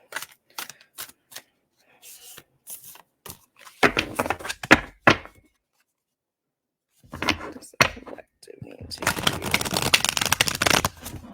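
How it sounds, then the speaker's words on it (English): Stiff playing cards from a new deck are riffled and shuffled in loud crisp bursts with pauses between, ending in a long continuous ruffle, close up. "this is a newer deck, so the cards are a little stiff, so they're a little louder when I shuffle them"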